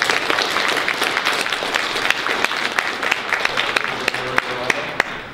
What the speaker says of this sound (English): Please applause for being here today.